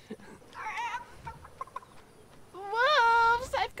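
A chicken in a video game makes a few soft clucks, then gives a louder drawn-out squawk near the end, heard close and with some background sound but no clear talk.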